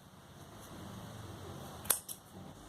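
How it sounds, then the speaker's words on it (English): Scissors snipping off crochet yarn, one sharp close snip followed by a smaller click against a quiet room background. "Do chain 1 and snip off this yarn."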